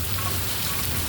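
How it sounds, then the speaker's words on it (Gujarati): Heavy rain falls steadily in a continuous dense wash, close and moderately loud, with no voices and no pauses across the short stretch. "આઠમનો વરસાદ ફૂલ ચાલુ થઈ ગયો જો"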